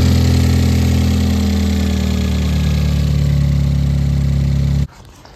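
A Ford Fiesta ST with a Garrett GTX2860 turbo, recently installed and not run in a while, idles loud and close with a steady droning tone for nearly five seconds before stopping abruptly.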